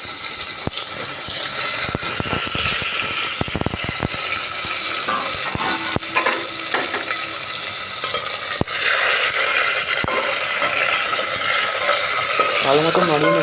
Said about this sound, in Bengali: ভালো মতো নাড়িয়ে নেবে কাজু কিশমিশটা